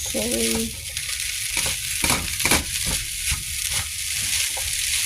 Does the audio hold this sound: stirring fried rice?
yes